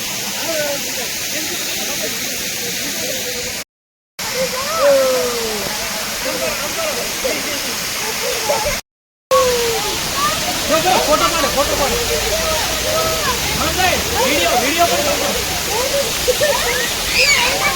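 Shivghat waterfall beside Shivghat temple on the Ahwa road in Dang, a steady broadband roar of falling water throughout, with a voice talking intermittently over it and two brief dropouts.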